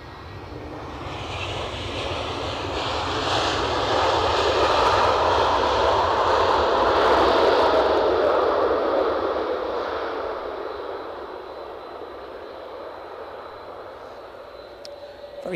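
An Airbus A321 airliner at Edinburgh Airport roars past, its engine noise swelling to a loud peak midway and then fading into a distant rumble.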